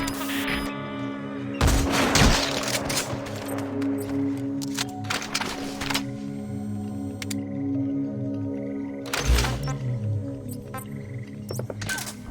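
Gunfire rattles in Metal Gear Solid 5: The Phantom Pain, sharp bursts of shots in short volleys around two, five and nine seconds, over a low droning game background.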